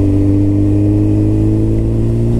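A tractor engine runs steadily at an even idle, with a deep continuous drone and no change in pitch, close by and loud, with no talk.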